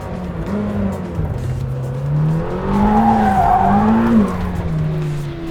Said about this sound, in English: We started small, with just a little twitch around a couple of corners at level 2 of the drift modes.